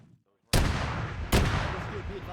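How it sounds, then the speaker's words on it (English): Autocannon fire in the ArmA 3 military game, two heavy booming reports about a second apart, each trailing into a long rumbling decay, loud and close after a brief quiet lead-in. "That fucking autocannon shooting at us from the east"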